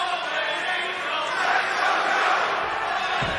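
A large wrestling arena crowd roars and cheers in a dense, continuous wash of noise, loud and sustained throughout with no clear individual voices.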